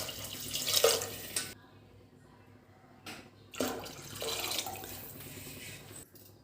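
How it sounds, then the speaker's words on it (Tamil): Water is poured in bursts into a pot of rice for coconut milk rice, two splashy gushes separated by a short quiet gap, close and fairly loud. "இப்போ 5 டம்ளர் தண்ணி ஊற்றிக்கலாம்."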